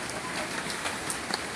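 Rain falling steadily outdoors in a village during a low-pressure storm, a soft, even patter heard faintly and briefly.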